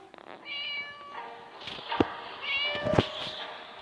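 A cat in the video game Scary Teacher meows several times in a row, the drawn-out calls close and clear over a faint background.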